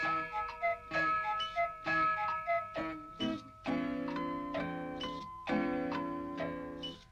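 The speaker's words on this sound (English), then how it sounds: "All of them chiming or whirring or clicking, cuckooing or ringing or tick-tock ticking." Many clocks ringing out together: tuned bell chimes and ding-dong tones layered over steady ticking, with repeated strikes and sustained ringing notes, loud and close with no talk.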